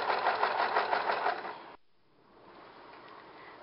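Domestic sewing machine stitching fabric scraps into a long ruffle, a steady rapid mechanical whir for nearly two seconds before stopping abruptly, leaving quiet room tone.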